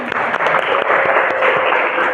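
Classroom applause for a student, dense rapid clapping from a group of pupils, steady and fairly loud throughout with no talking.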